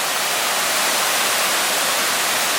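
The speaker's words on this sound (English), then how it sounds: "Working waterfalls" Working waterfalls cascade beside the 1970s Brutalist parking structure at Montreal's Olympic Stadium, a steady broadband rush of falling water that holds an even, loud level throughout with no break.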